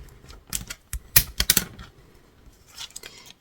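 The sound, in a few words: scoring fold lines on scrapbooking card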